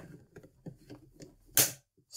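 The plastic housing part of a Jura coffee machine snaps into place with one sharp click after a few soft handling taps and rustles, close and fairly quiet.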